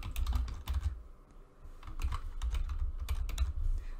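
Quick bursts of keystrokes on a computer keyboard, typing a name in a design program, close and clear with short pauses between clusters of taps and no talking.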